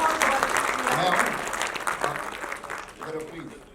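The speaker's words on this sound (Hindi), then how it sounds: "एक बार जोरदार तालियां बजा दें अनूप जी का।" A crowd at a film industry event applauds a departing guest, dense clapping that swells then fades, with voices talking over it toward the end.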